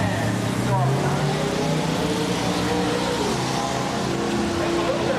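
A Mopar drag race car with a 632 cubic inch engine runs down an NHRA Englishtown strip, a loud continuous engine roar with rising tones, heard amid background talk and ambient track noise.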